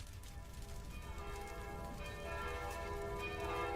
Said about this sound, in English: The sound of the city bells began to ring continuously.